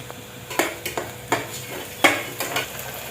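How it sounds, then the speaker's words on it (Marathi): Ginger garlic paste with onion sautéing in a pressure cooker: a soft sizzle under repeated scraping strokes of a spoon, about half a dozen stirring scrapes with metal clinks, close and without talking. "आलं लसूण पेस्ट छान परतली."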